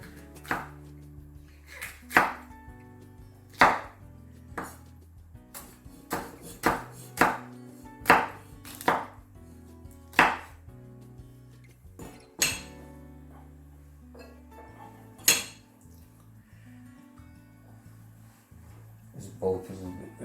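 Knife chopping small green and red peppers for a chicken pizza topping on a board, with sharp, uneven chops spread across the stretch and a quieter pause before a final few strikes.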